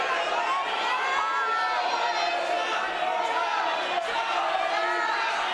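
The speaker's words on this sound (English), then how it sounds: "Entire crowd calling for stalling." Crowd at a Graham vs. St. Edward high school wrestling match, a dense, steady roar of many voices shouting and calling out together without letup.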